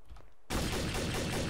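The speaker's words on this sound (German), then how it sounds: "Wo ist der Schuss?" Gunfire in the video game Trouble in Terrorist Town: after a quiet moment, a sudden loud, harsh burst of shooting starts and keeps roaring with no letup. No one talks during it.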